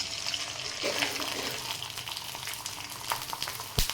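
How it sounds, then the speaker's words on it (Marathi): Steamed sabudana papads fry and puff in hot oil in a kadhai, with a dense, continuous crackling sizzle that is loud and close and has a few sharper pops near the end. "कढईमध्ये आता तुम्हाला मी तळून दाखवते कसे फुलतात बघा तेल तापलेलं आहे"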